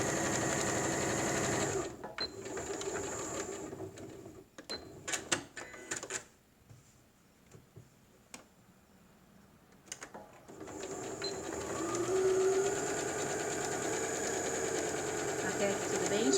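A sewing machine runs in fast rattling bursts while stitching the hem of an unlined fabric bag with white thread, pausing midway for scattered clicks and handling noise before running steadily again.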